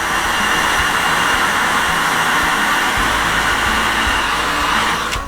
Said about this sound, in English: I'm going to use a heat gun on its low setting.